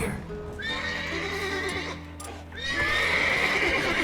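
Horses whinnying in The Witcher 3 game, two loud neighs rising over a steady in-game ambience with low hum.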